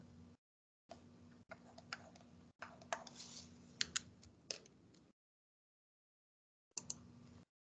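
A handheld calculator's keys being pressed while converting degrees to radians, a series of quiet close clicks in uneven bursts with pauses between them.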